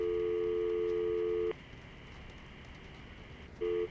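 In the Syberia adventure game, a phone call hits a busy signal: a loud, steady electronic tone holds for about a second and a half, then after a quiet gap of roughly two seconds a second tone pulse begins.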